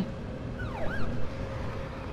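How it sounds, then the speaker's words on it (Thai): Ambulance siren in the horror video game The Evil Within wails with a couple of rising and falling sweeps over a steady rumbling background, moderately loud and heard alone. "มาแล้วรถพยาบาลมารับแล้ว"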